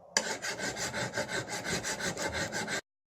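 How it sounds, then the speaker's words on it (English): A file is draw-filed along a forged bearing race knife blade to smooth an uneven angle grinder finish, making a close, steady series of about a dozen rhythmic rasping strokes with no speech. "using a draw filing technique, I'm just smoothening out the grind from the angle grinder"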